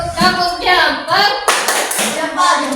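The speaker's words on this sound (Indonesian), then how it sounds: "Kasih tepuk jempolnya untuk kelompok 1. Tepuk jempol." Classroom group doing a rhythmic thumb-clap cheer, a burst of quick, close claps and taps mixed in among voices speaking.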